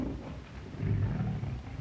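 A tiger gives a low, sustained roar, close and fairly loud, swelling midway through against a rough background hiss.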